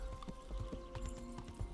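Horse hoofbeats in Kingdom Come: Deliverance thud in an even trotting rhythm, quiet and set against a low ambient drone with faint tonal hums.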